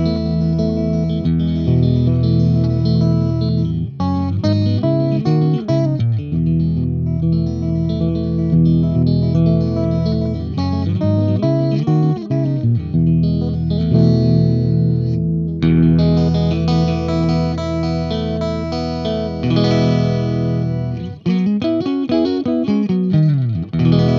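Electric guitar through the clean channel of an Engl E606 Ironball amp head, played in ringing chords and single notes with a shimmering, effects-laden tone. The playing is close and continuous, with no talking.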